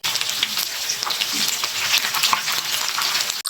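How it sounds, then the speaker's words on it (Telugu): Chicken kabab pieces deep-fry in oil over a low flame, giving a dense, continuous crackling sizzle with fine popping bubbles, close and fairly loud with no talk. "లో ఫ్లేమ్లో పెట్టుకొని చికెన్ పీసెస్ని బాగా ఫ్రై చేసుకోవాలి"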